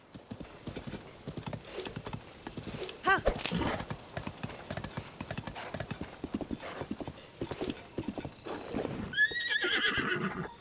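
Horse hooves clip-clop in a quick rhythm in the video game The Legend of Zelda: Tears of the Kingdom, with intermittent talking over them, then a horse neighs loudly near the end.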